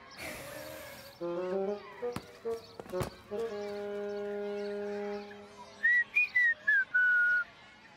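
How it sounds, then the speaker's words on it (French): In a French children's cartoon, a young girl whistles a short tune in clear sustained tones with rising and falling notes, followed by a string of brief chirpy whistles, with a few sharp clicks and other cartoon sounds between. "Tu as appris à siffler."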